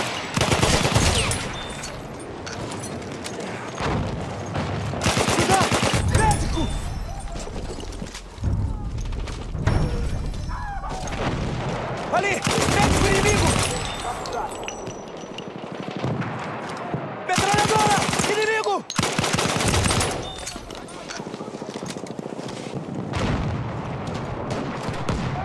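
Machine-gun fire in the Battlefield video game on the Argonne Forest map, with repeated bursts of rapid shots and booms that come and go across the scene, mixed with voice callouts.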